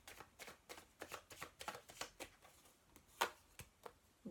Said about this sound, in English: let's have some Chuck Spezzano love cards